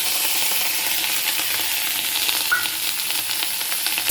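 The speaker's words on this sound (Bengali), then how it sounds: "পেঁয়াজটা একটু ভেজে নেব।" Onion and green chillies fry in hot oil in a wok, giving a steady, close hiss and crackle that continues without a break, with occasional soft pops.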